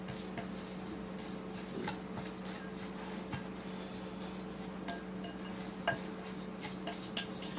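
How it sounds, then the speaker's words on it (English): Graham cracker crust mixture with a stick of melted butter being stirred in a bowl, giving faint scrapes and occasional light clinks of utensil against the bowl over a steady low hum. "All you're simply going to do is stir it up."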